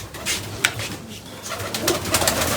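Hungry pigeons coo in a low continuous murmur from a flock close by, with rustling and scattered sharp clicks over steady background hum.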